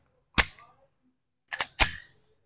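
Springfield Armory Echelon pistol fired outdoors, three sharp loud shots: one alone, then a quick pair about a second later, with short decays and no talk.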